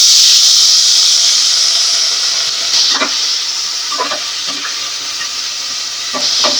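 Onions fry in a pan for an egg curry with papaya, giving a loud, steady bright hiss and sizzle. A few soft spatula scrapes and stirs break through at intervals, with no talking.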